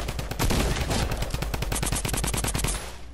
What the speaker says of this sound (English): I hear shots over here